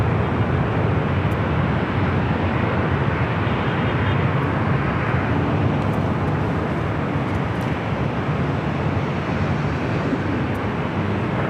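A Delta Airlines Boeing 737-900ER jet at LAX roars as a broad, steady rumble, loud and continuous, with no voices.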